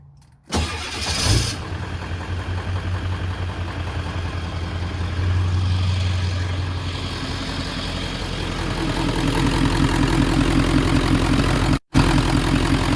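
A car engine cranks and catches, then settles into a deep, rumbling idle with a low exhaust throb, rising briefly as it revs.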